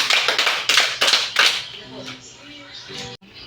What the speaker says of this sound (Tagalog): bigyan natin ng 5 palakpak ang ating mga sarili